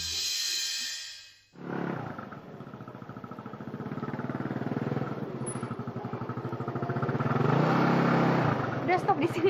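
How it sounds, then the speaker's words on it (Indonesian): A motorcycle engine starts up and runs steadily, its revving rumble rising and falling as the ride gets underway, loud and close after a short moment of quiet. "Kebetulan tuh ada motor."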